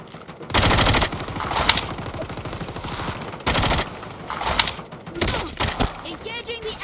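Video game gunfire from an enemy sniper crackles in several sharp bursts of rapid shots, while players talk over the action.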